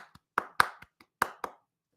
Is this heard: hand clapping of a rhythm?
yes